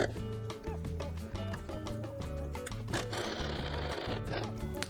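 A sewing machine stitches fabric for a scrunchie in quick, rhythmic mechanical bursts with brief pauses. It runs close and steady with faint background noise.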